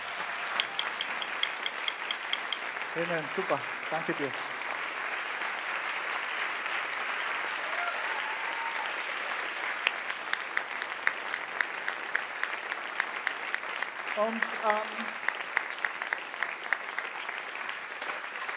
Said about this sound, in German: Bitte einen großen Applaus für den Christian.